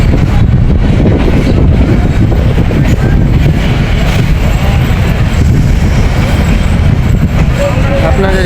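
Passenger train bound for Dhaka rumbles steadily along the tracks near Gazipur, a loud continuous low roar with faint rail clatter and wind buffeting throughout.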